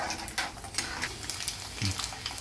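Handful of peanuts frying in smoking, foaming sesame oil in a pan, a steady close crackling sizzle with light stirring clinks and scrapes of a utensil against the pot.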